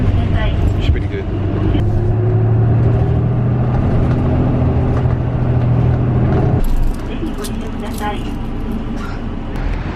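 A city bus driving through Kyoto gives a loud, steady engine drone and road rumble, close by, that drops in pitch partway through as it slows, with voices talking over it.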